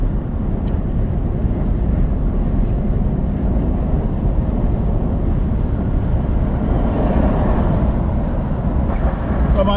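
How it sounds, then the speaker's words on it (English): A car cruises through a highway tunnel in Atlanta, Georgia, with a steady low roar of road and engine noise that stays loud and even throughout, and no one speaks. "I'm gonna share that moment driving through that tunnel with you."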